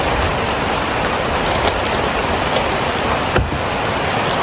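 Heavy rain pours down steadily, a dense, loud hiss of drops on surfaces that stays constant with no pauses.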